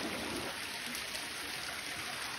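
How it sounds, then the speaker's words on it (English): A creek flowing steadily beside an off-grid water pump setup, a continuous soft rushing and trickling without pause and with no voices. "creek's just running as normal"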